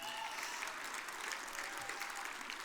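Audience at a U.S. Hockey Hall of Fame induction celebration applauding, a dense steady wash of many hands clapping in a large hall, moderately faint and sustained throughout.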